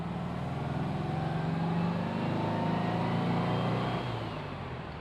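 A Porsche 356 drives along at speed, a steady close engine drone with road rumble that eases off slightly toward the end, no voices.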